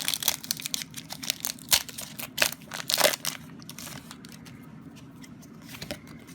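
A Pokemon Furious Fists booster pack being torn open by hand, with sharp foil crinkles and rips in quick bursts up close, then quieter rustling as the wrapper settles.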